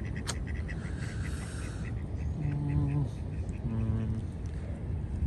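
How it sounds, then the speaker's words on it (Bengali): Ducks on water, including an injured one, give several short nasal quacks in a small cluster midway, moderately close, over a steady outdoor background with some human voice. "ব্যথা পাইছে রে হাঁসটা।"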